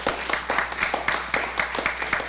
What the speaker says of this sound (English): let's give them a hand, round of applause.